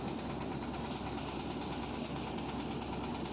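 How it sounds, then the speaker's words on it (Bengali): A Changchai 36 self-start engine runs on a vehicle being checked before delivery, a loud, steady, close diesel drone with no break and no talk. "এটার ইঞ্জিন হচ্ছে চাংচাই 36"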